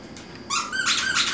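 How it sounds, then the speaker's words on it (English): A plush Eiffel Tower dog toy squeaking twice in quick succession, loud, close and high-pitched over light room noise. "And it squeaks."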